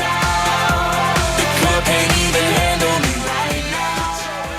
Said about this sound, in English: Now I can play music, and it sounds like this.